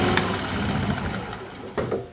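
Wood lathe turning a maple crotch blank, spun up to about 1200 RPM, giving a steady, close motor hum with a couple of brief knocks near the end.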